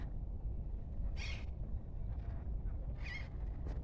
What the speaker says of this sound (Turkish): Kuş sesi, sessizlik.